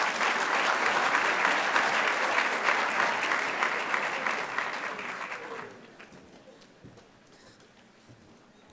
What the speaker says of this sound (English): let's give all our recipients a nice round of applause.